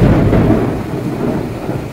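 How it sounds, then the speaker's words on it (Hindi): Thunder rolls through a heavy rainstorm, a loud deep rumble filling the whole moment over steady hissing rain, gradually easing off without any voices. "देख रहे हो ना कितना बादल गरज रहा है"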